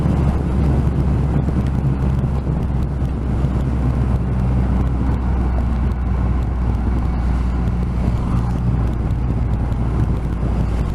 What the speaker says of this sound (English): Let's see how easy it is to do a U-turn on this motorcycle.